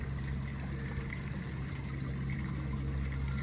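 Water running steadily through a nearly full drainage ditch on a duck farm, a continuous close rushing flow with no voices.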